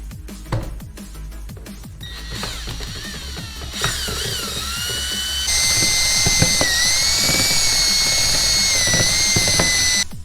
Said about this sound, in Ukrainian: Поступово висипаємо базу та починаємо мішати.